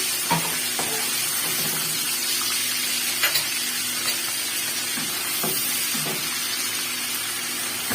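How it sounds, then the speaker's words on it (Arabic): Garlic sizzles and crackles steadily in a hot pan, with occasional scraping clicks of a spoon stirring through it. "وانزل على الثوم بتاعنا واقلبهم"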